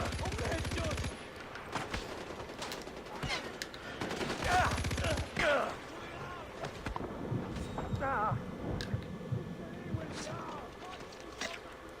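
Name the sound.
gunfire in the video game Far Cry 4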